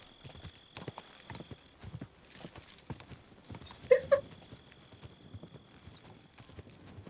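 Horse hooves in Kingdom Come: Deliverance II clop in a fast irregular rhythm at moderate distance, with a short whinny-like burst partway through and faint background sounds.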